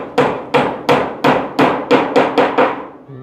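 Hammer blows ring out while corrugated metal roofing sheets are nailed onto a house, eight sharp, loud strikes in a steady rhythm with a bright metallic clang and short decay.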